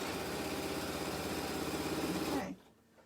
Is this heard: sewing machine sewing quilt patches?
yes